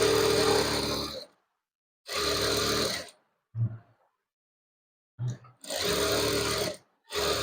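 A sewing machine stitches trouser pieces in three loud, steady whirring runs separated by short pauses, with a couple of brief low thumps between runs.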